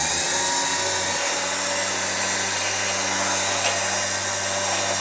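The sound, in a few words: Smittybilt XRC 9500lb winch motor running on Jeep Wrangler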